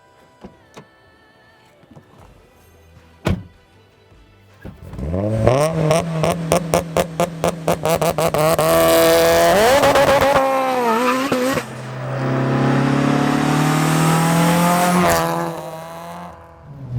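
An 800 horsepower Mitsubishi Evo pulls away on the road, its engine climbing hard through loud rising revs with quick gear-change breaks, then a sustained high roar that drops off before surging again.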